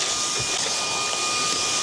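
A cordless vacuum cleaner that takes DeWalt 20V batteries runs steadily with a crevice tool fitted, giving a loud, constant motor whine and airflow rush from start to finish with no talk.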